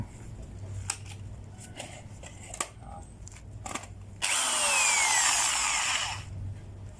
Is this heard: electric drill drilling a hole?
yes